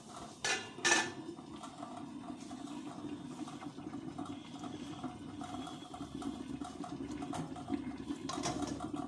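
Jars of chicken stew cook in a pot, giving a continuous faint bubbling and rattling with clinks of glass and metal lids, the few louder knocks coming early, heard close with no talking.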